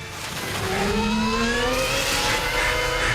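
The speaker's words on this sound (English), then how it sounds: "Then we also have a red Lexus sports car that is driven by Tom Cruise." A red Lexus sports car from the film Minority Report drives off, its engine rising in pitch as it accelerates, loud and close, with no talk.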